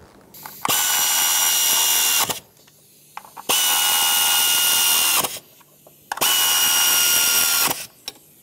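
A power ratchet or drill runs in three bursts of about two seconds each, tightening the valve cover bolts on a 1997-2003 Lexus ES300 engine, loud and close with short pauses between them.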